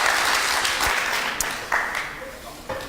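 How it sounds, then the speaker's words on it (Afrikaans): Audience applause at a closing evening of the Ubi Caritas 2016 child care event, dense clapping that starts loud and slowly fades, with a few sharper claps near the end and faint voices underneath. "Kom ons gee hulle 'n hande klap."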